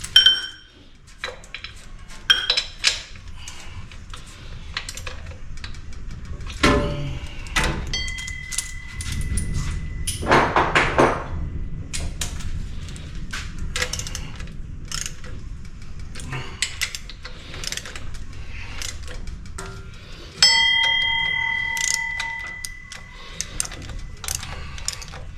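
A torque wrench tightens bolts to 30 while a Front Runner rack is fitted in a garage. Close, crisp ratcheting and repeated sharp clicks come in irregular bursts, with occasional metallic clinks and a brief rushing noise, and no talking.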